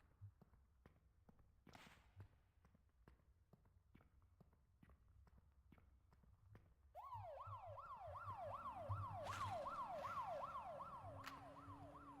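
Sharp footstep-like clicks tap alone at first, then a warbling wail siren from the video game Cultic starts abruptly and cycles steadily, fairly loud over a low rumble.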